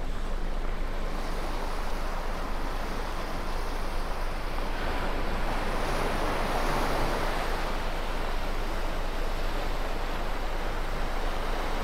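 Sea waves wash steadily onto the rocky shore of a small cove at Cala Llamp, Mallorca, with clear water. They make a continuous broadband surf wash that swells slightly midway and carries no voices.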